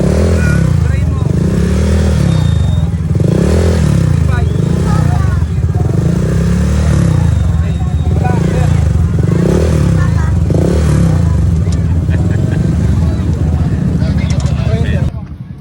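A motorcycle with an open pipe exhaust rumbles and revs loudly and close by in Cabuyao, Laguna, its throbbing exhaust rising and falling in repeated pulses throughout while people talk nearby.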